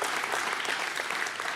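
Audience applause at a talk on current events, dense, steady clapping from a crowd, close and continuous for a brief stretch.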